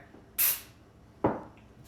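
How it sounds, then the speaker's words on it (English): Two short hissing bursts of CLP aerosol sprayed onto a cleaning rag, the first bright and sharp, the second lower and duller, with quiet pauses around them. "I'm gonna go ahead and spray the rag."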